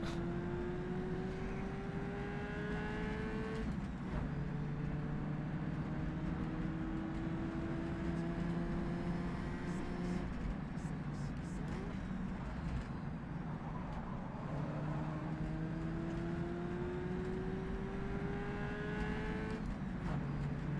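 A Ferrari race car in a 1955 Gold Star race at Bathurst, heard in a racing game, its engine droning steadily with rising whines as cars pass, loud and continuous without talk.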